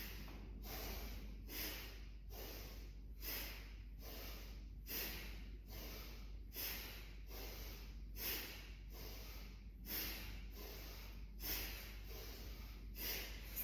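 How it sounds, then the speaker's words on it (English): Slow, rhythmic breaths in and out through the nose during a guided breathing exercise, close and soft, repeating steadily about every second and a half with no talking. "You'll inhale to the left and exhale to the right."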